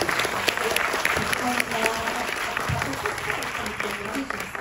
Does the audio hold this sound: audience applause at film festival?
yes